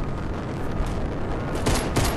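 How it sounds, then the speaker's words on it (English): Rocket launching in Fortnite, a dense, roaring blast of rumbling thrust that stays loud throughout with brief bursts near the end, without voices. "The rocket's launching."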